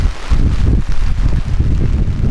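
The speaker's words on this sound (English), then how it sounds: "Wind's gusting" Strong wind gusts buffet an outdoor high school track meet in pouring rain, a continuous loud low roar and rumble of wind across the microphone throughout.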